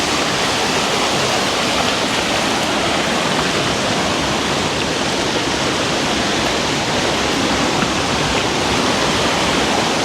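Steady, loud broadband rush of a river flowing over rocks, continuous and close throughout with no talk over it.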